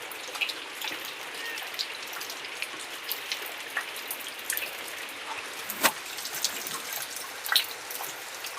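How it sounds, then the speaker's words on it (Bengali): Steady drizzling rain falls outside from a wet afternoon sky, a soft continuous patter with scattered louder drips and splashes, moderately distant and unbroken by voices. "এইরকমভাবে ঝিপঝিপ করে বৃষ্টি হতেই আছে, বিকেল থেকে শুরু হয়েছে বৃষ্টি"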